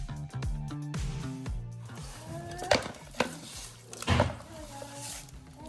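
Fish curry ingredients for Andhra-style chepala pulusu being stirred in a pot, a spoon scraping and clinking against the metal in uneven strokes, fairly close and alone.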